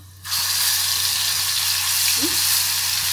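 Ginger garlic paste dropped into hot oil for a fish dish, starting with a sudden loud sizzle that then holds as a steady close hiss over a low hum.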